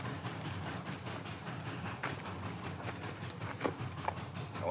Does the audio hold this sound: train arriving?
yes